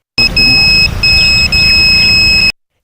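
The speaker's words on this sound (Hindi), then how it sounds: "जैसे ही कोई करीब आता है, चिप के साथ जुड़ा अलार्म अपने आप बजने लगता है।" Proximity alarm on a student-made wearable chip device sounds a steady, loud high-pitched electronic beep with a few short breaks, nearby and alone without talk.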